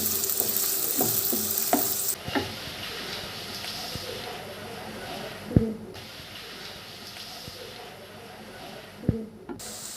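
Chopped onions dropped into a hot pan with cumin seeds and dried red chillies hiss and sizzle loudly at first, then settle into a softer steady fry broken by a few sharp clanks of utensils.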